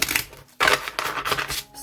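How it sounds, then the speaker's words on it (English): A deck of tarot cards being shuffled, with several crisp, riffling bursts of card noise separated by short pauses, close and fairly loud with no talking. "Let's give them a good shuffle."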